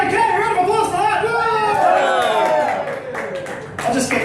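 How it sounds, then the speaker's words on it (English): A comedy club audience claps and cheers in a broad burst that swells and then thins out, with chatter mixed in. "Round of applause for"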